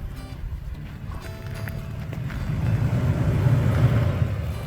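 A truck rolling into a campsite on a mesa, a low engine rumble with crunching gravel that grows louder and closer over several seconds, with no talk.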